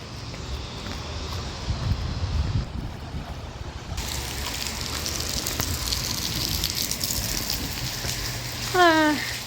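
Steady rain hisses outdoors at night, growing louder midway, with a low rumble underneath and a brief rising electronic chirp near the end.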